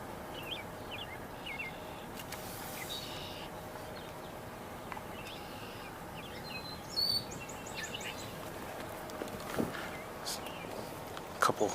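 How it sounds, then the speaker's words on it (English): A couple of starlings call from trees in an outdoor natural area, scattered brief chirps and whistles amid other birdsong, faint and at a distance, with quiet footsteps and rustling nearby. "couple starlings"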